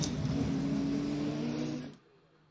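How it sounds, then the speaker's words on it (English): A GT race car in a pit lane bounces off its rev limiter in a loud, steady high-pitched engine drone, then moves away and cuts off abruptly near the end, leaving quiet. "Already on the rev limiter, there goes Shelby Blackstock."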